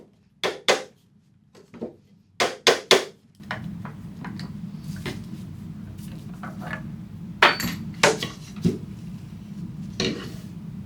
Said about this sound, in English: I took a screwdriver and started unscrewing this table.